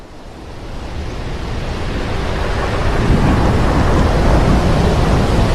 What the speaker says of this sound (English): let's imagine we're in a boat in the middle of a terrible storm